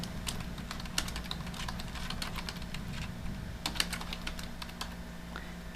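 Steady typing on a computer keyboard, quick irregular clicks in short runs, fairly quiet and close, with a low hum beneath and no talking.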